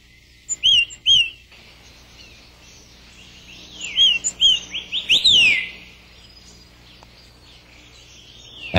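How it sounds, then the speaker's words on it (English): Red-headed tits and green-backed tits chirp while foraging together in a mountain forest, giving sharp, high tweets in scattered bursts, a few close and clear, with quiet gaps between them and no voices. "red-headed tit and green-backed tit search for food together"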